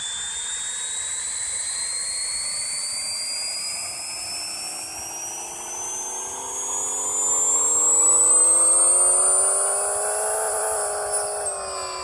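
A twin-turbo car engine at 26 PSI revs up on a dyno in the video game Pixel Car Racer, a steady rising whine that climbs in pitch over about twelve seconds and swells louder near the end, with no talk.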